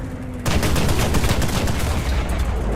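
Tank guns in War Thunder firing at a KV-2's tracks, a loud, continuous rapid stream of automatic shots that kicks in suddenly after a brief quiet start and hammers on steadily.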